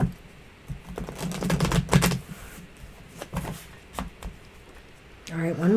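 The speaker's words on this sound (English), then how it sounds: "All right, one more shuffle." Tarot cards shuffled by hand: rapid clusters of crisp papery riffles and taps, close by, with a person speaking briefly between and after the shuffles.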